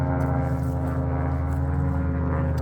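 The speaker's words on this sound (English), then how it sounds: "Different kind of plane for sure flying over us here." A propeller airplane of an unusual type drones steadily overhead at a roadside firewood stand, a loud continuous engine hum with no talk.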